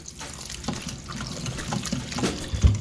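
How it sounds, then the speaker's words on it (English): Water poured into an Instant Pot of shredded beef chili, a close, uneven splashing trickle with small gurgles that swells toward the end. "I put maybe a cup and a half of water."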